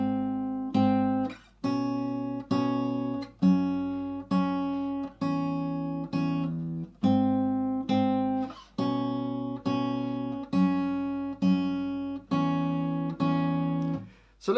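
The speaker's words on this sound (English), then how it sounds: "The little picking bit, we'll do that first. It sounds like this." Acoustic guitar picking a song's riff, plucked notes in a steady repeating pattern of about a dozen phrases, clear and close with no talking.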